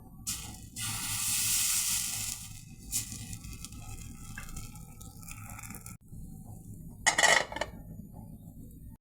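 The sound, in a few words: batter poured into pan for chitoi pitha, sizzling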